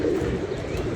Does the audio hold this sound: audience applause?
no